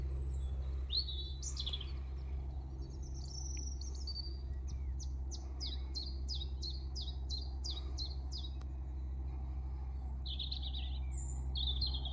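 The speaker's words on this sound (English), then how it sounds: "Just capturing some of the bird song." Birds chirp and twitter along a canal, with a rapid series of repeated high notes in the middle, over a steady low hum of outdoor background noise.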